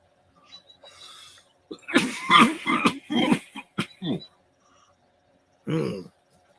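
A few rough, throaty coughs and bursts of breath close up, clustered together, then a short pause before one more cough.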